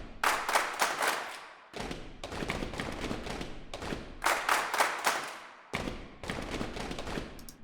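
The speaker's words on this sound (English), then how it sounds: "let's start by having a listen to some of the body percussion in the male section here" A male choir performs body percussion from the Audio Imperia Chorus library: loud, rhythmic stomps, claps and slaps in accented groups, broken by short pauses.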